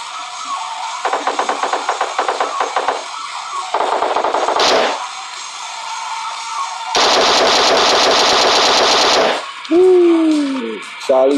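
Gunfire in a video game: bursts of rapid automatic shots in separate volleys, loud and close, interleaved with game effects and a rising electronic tone, with no speech.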